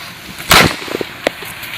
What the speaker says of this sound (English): That's the smoke bomb that got lit off.